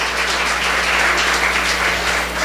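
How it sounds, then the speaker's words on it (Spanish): A church congregation applauding during a service, a steady wash of clapping that holds at an even level for a few seconds, with a low hum underneath. "Un fuerte aplauso al Señor por su palabra"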